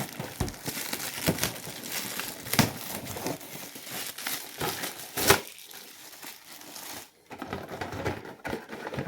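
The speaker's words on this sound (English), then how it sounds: "let's just very quickly tear this open" Plastic and cardboard packaging for an Archon Studios Dungeons & Lasers caves crowdfunding set is torn and crinkled open up close, a busy run of crackling rips and crumples with a brief pause near the end.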